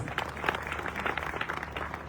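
Audience applause at a Sierra Leonean community fundraising dinner, a steady patter of many hands clapping throughout, moderately near with a roomy crowd texture.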